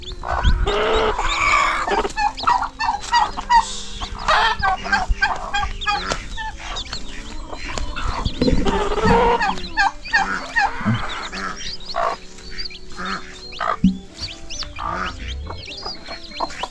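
A native hen clucks repeatedly, a broody mother that tends her chicks well, close and loud, with chick peeps and other fowl calls mixed in throughout.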